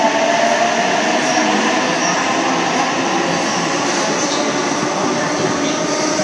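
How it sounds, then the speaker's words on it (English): Sydney Trains Tangara electric set arriving at an underground platform at Redfern during afternoon peak, a loud continuous roar and rumble of wheels and motors that fills the station steadily throughout. "we have a Tangara arriving on platform 12, Cronulla service"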